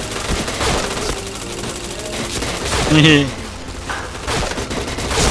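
Gunfire in a shooter video game, dense rattling bursts and shots heard close and loud, running under a voice talking over the action.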